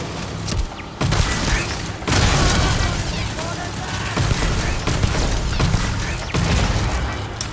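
Turrets firing in the video game Starfield, a loud stream of rapid gunfire bursts and booms with mechanical clatter, while someone talks over the combat.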